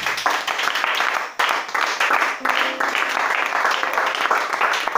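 A church congregation applauds in praise, steady loud clapping from many hands that briefly dips before resuming, continuing without break.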